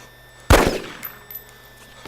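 A single sharp, loud gunshot at a zombie in DayZ rings out, then decays quickly into quiet, with a couple of faint knocks afterward.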